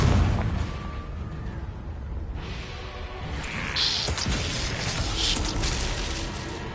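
Fiery Confringo spell blasts in Hogwarts Legacy, a steady roar of explosive bursts and whooshes with a few brighter cracks partway through, loud and continuous with no talking.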